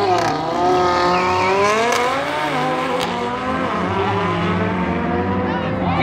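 Race cars launching side by side down a drag strip during a street-to-strip track day at Tarlton International Raceway, engines roaring loud and continuous with rising gear pulls and a crowd voice faintly underneath.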